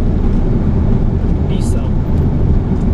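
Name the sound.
Airbus A330 engines in reverse thrust during landing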